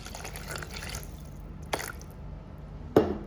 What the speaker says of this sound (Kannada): ಇದಕ್ಕೆ ನಾವೀಗ ಒಂದು ಅರ್ಧ ಗ್ಲಾಸ್ ನೀರು ಹಾಕಿ ಇದನ್ನು ಮಿಕ್ಸ್ ಮಾಡಬೇಕು ಮೊದಲು